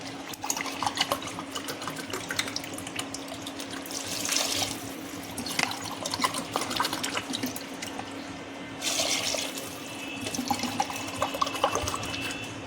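Water pours and splashes steadily into a rice pot in a few separate pours, with a brief louder gush around the middle and again later.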